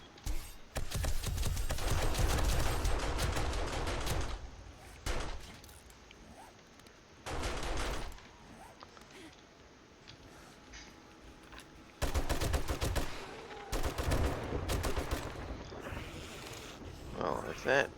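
Bursts of rapid gunfire from a weapon in the survival video game 7 Days to Die during a horde night, loud volleys separated by quieter stretches where a voice talks.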